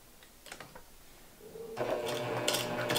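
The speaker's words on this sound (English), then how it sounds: "And back in the machine we go." Quiet clicks and shuffling give way to a sewing machine running in a steady, rapid burst of stitching as it sews binding onto a quilt, fairly close and without talk.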